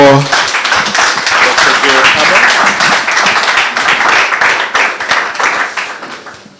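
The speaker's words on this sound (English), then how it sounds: "Please, a round of applause for" A conference audience claps at a public service reform event, a full round of steady applause that swells and then tapers off near the end.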